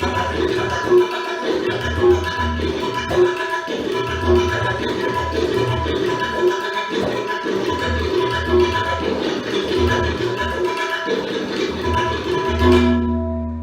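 Rapid tabla strokes in a dense, continuous pattern, resonant drum tones ringing under fast finger hits, played close and steady.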